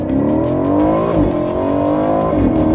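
A 2019 Aston Martin Vantage with a twin-turbo V8 accelerates hard, its engine note climbing smoothly through two rising pulls with a brief shift dip between them, loud and close from inside the car.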